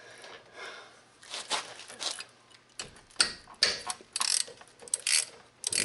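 Ratchet clicks in quick bursts while loosening brake caliper slide bolts on a 2007 Ford Explorer XLT, close and sharp, with short pauses between strokes.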